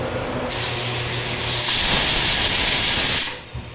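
Chicken drumsticks hit a hot pan of onion, garlic and tomato with black pepper, giving a loud burst of sizzling hiss that swells, holds for a couple of seconds, then fades.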